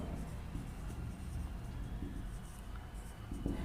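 Coordinates are written out during a Class 10 maths lesson on coordinate geometry, giving a quiet, continuous scratching of writing that runs steadily throughout.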